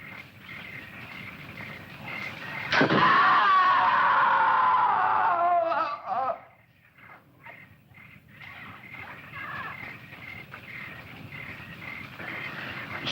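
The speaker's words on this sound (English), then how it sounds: "I'm sure I heard a scream" In a 1961 film, a loud, high wailing scream bursts out suddenly and holds for a few seconds before cutting off, followed by quieter rustling background noise.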